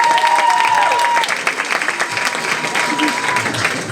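A crowd at the Miss Yonne 2024 beauty pageant claps loudly and steadily as a contestant is introduced, with a brief whistle-like tone early on and voices mingling in the sustained applause.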